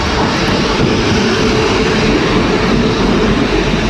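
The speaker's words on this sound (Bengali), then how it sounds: "এই যে আমাদের ট্রেনও ঢুকছে" A train rolls into a station, a loud, steady rumbling roar of wheels and engine filling the whole stretch without letup, close by and heavy.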